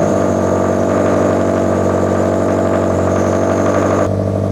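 A Toyota 86 / Subaru BRZ / Scion FR-S engine idles loudly and steadily up close after a misfire repair, with a constant low rumble and a slight shift in tone near the end.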